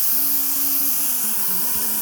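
Asparagus is steamed in a home kitchen, giving a continuous, even hiss of steam that holds steady for about two seconds with no talk.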